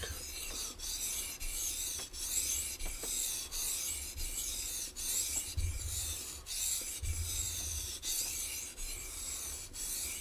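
A Schrade Frontier SCHF42D knife edge is rasped steadily across a sharpening stone in repeated back-and-forth strokes, close and fairly loud, with no talking.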